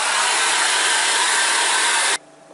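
Steady loud whoosh of a hair dryer used to dry acrylic paint, a continuous airflow roar that cuts off abruptly near the end, leaving near silence.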